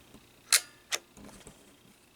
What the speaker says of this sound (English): Now you can fire the shutter.